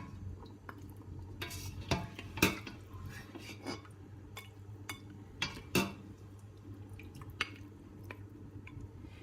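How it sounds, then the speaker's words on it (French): Cooked stuffing meat lifted out of a pot of sauce for vegetable dolma, with faint spoon clinks against the pot and soft wet drips, scattered sharp knocks over a quiet background. "J'ai laissé cuire la viande pendant 45 minutes, elle est cuite, je vais la retirer."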